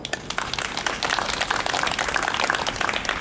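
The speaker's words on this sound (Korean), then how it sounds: "하나님께 한없는 영광의 박수를 올려드립시다" A crowd claps at a Korean church prayer meeting for national salvation, sparse at first and then swelling into a steady, fairly dense round of applause.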